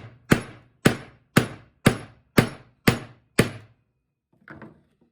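Seven sharp, loud metal-on-wood strikes land at a steady beat as a chisel and pry bar split a board for DIY skull and cross grave markers, followed by a softer scrape.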